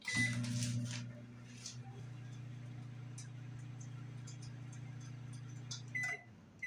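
A microwave oven hums steadily while warming leftover cheese for about 25 seconds, the low even drone preceded by a few button beeps and clatter, ending with a door click, fairly quiet and close.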